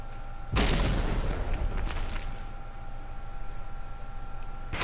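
A single heavy boom from long-range torpedoes striking a ship in From The Depths, loud and close with a sharp onset, then a rumbling tail that fades over a few seconds.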